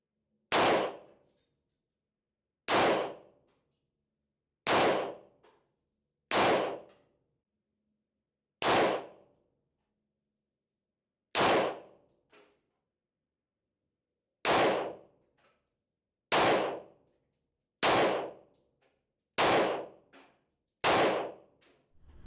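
Nine single 9mm pistol shots fired with a tactical weapon light mounted, at a shooting range, each a sharp loud crack with a short decaying tail, spaced about two seconds apart with silence between.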